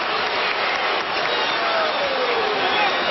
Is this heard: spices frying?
no